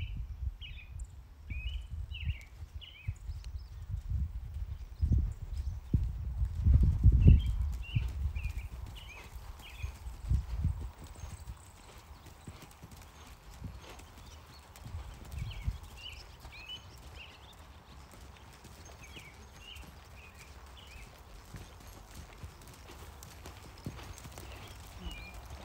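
A mare's hooves clip-clop in a steady rhythm on soft ground in a round pen, louder at first then fading and returning as she circles, with faint birdsong in the background.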